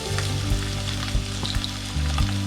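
Squid marinated in turmeric and salt fries with masala in a pan for a squid roast, a continuous close sizzle broken by a few sharp scrapes of stirring, set against a low steady hum; no voices.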